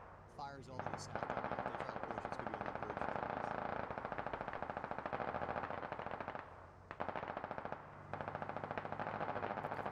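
Sustained automatic gunfire from the military shooter game Squad rattles in long, rapid bursts with a brief pause midway, loud and dense throughout.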